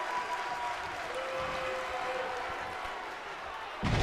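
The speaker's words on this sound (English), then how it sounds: "The crowd displeased with that one." Virtual arena crowd in the WWE 2K19 wrestling video game, a dense sustained roar of jeering and murmuring spectators that rolls on throughout and swells sharply near the end.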